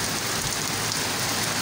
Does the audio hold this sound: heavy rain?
yes